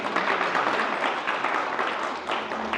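Audience at a Gaura Purnima class and drama in Manchester applauds, a dense steady wash of clapping lasting a few seconds before thinning slightly.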